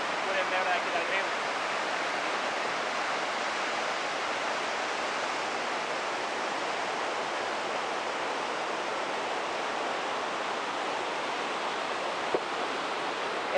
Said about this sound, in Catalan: aquest és un dels ràpids que podem veure d'aquí del riu